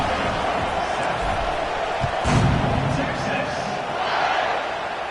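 A football stadium crowd roars in a steady, loud wash of noise as the ball is about to be kicked off, swelling briefly in the middle and toward the end, with faint voices buried in the din.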